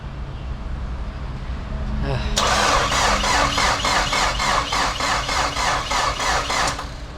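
Nissan 200SX with an SR20DET engine cranking on a jumper pack: a rapid, even starter whir with rhythmic pulses that runs for about four seconds, close and loud, then cuts off.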